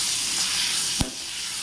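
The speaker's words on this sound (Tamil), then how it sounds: "தக்காளி வெங்காயம் நல்லா வதங்கணும்." Tomatoes and onions sautéing in a pan give a steady close hiss of frying with one brief stir or clatter partway through.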